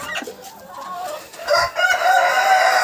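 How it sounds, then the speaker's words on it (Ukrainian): A hen clucking and squawking close by in a Ukrainian farmyard during nesting season, a few sharp, agitated calls over about three seconds with no speech. "Вредна ця курка така"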